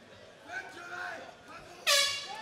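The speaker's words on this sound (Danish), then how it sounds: "Og så lyder hornet der." An air horn blasts to mark the end of a round in a grappling match, loud and sharp after a stretch of low commentary, sustained to the end.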